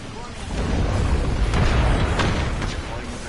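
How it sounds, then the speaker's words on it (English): A frag grenade detonating in a shooter game: a loud, rumbling burst that swells and lingers amid crackling battle noise, with sharper pops scattered through it. "Delivering frag."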